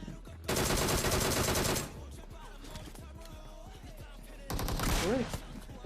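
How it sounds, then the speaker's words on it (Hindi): Gunfire from the PUBG Mobile battle-royale game, two loud dense bursts of rapid shots, one early and one near the end, with quieter game ambience and chirping effects between them. "मैंने इसके टीममेट को देख लिया, वो यहीं बैठा हुआ था शॉटगन लेके। तो मैं समझ गया कि मैं जैसे ही निकलूंगा वो शॉट लेगा, और उसने शॉट लिया भी"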